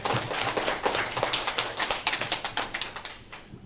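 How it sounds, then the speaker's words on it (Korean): Participants at a social work practicum orientation clap in welcome, a small group giving quick, evenly spaced claps that sound close and fairly quiet for a few seconds. "박수로 맞아주세요."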